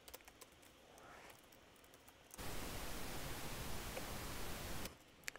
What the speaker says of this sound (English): The pink noise has no frequency, just has mul and an add